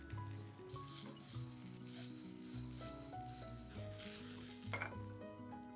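Finely chopped green chilies and corn sizzle in a pan for a soya corn gujiya snack. The faint, steady frying hiss sits under tonal background music.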